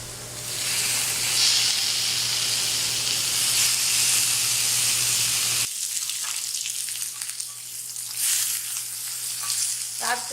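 Shrimp kebabs sizzle and fry loudly in a hot cast iron skillet, a dense steady hiss that drops in intensity partway through and then continues more quietly with crackles.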